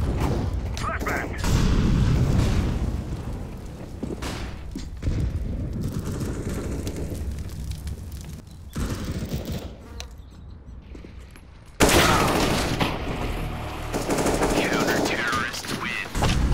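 CS:GO gameplay with rapid gunfire bursts and a flashbang blast, loud dense shooting broken by brief quieter gaps, with a voice over the action.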